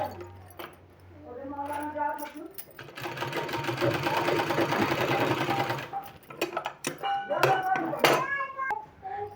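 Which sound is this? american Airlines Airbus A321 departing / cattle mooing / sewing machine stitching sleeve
sewing machine stitching sleeve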